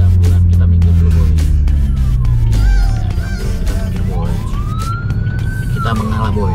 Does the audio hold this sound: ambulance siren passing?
yes